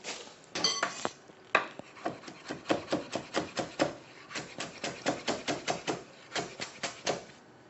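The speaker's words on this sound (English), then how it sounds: "You chop all of this. Just chop it, mash it up." Steady, rapid knife chopping of fresh herbs including thyme on a cutting board, a long run of sharp evenly spaced taps close by, with no talking.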